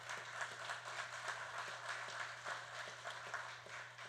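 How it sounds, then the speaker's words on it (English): Crowd applause at a general election campaign rally, a soft, even wash of many hands clapping heard from a distance beneath a steady low hum. "That deserves a good round of applause."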